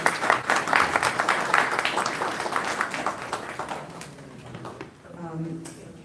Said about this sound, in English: I actually would like us to give him a huge round of applause for making all of this possible